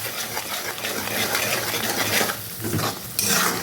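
A utensil stirs Bengali koi fish curry in hot oil after Kashmiri red chili powder goes in, scraping and clinking against the pan over continuous sizzling with no talk.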